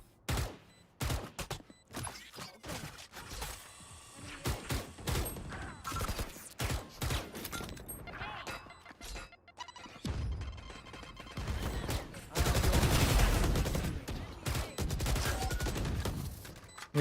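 Gunfire in the tactical shooter Valorant during a match, with dense bursts of rapid shots and crackling volleys, loudest toward the end, mixed with game mechanisms and impacts.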